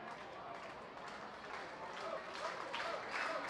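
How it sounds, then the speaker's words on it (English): A minor league baseball crowd at a Reading Fightin Phils game against the Akron RubberDucks cheers from the stands, a distant, steady wash of clapping and shouts that swells slightly toward the end, with voices talking faintly over it. "now trying to cheer on the Fightins to the finish line"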